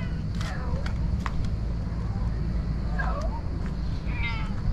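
A cat outdoors on a mountain village trip gives a few short meows spaced over several seconds, fairly faint against a low rumbling background, with a person speaking nearby.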